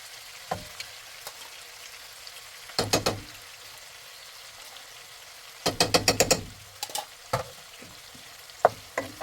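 Tomatoes dropped into a pan of frying spices, salt, chili, turmeric, ginger, garlic and onion, giving a steady close sizzle broken by several loud clattering bursts as the pan is stirred.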